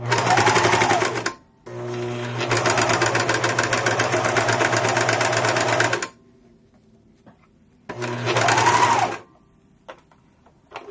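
A serger sewing machine runs in loud, steady bursts of fast stitching, a dense mechanical whirr lasting several seconds, then a pause and another shorter burst before it falls quiet.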